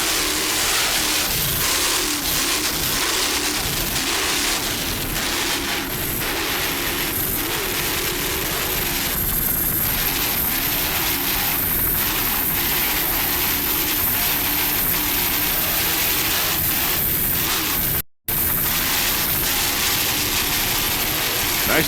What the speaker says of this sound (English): Just listen to those Ohio Steel inboards.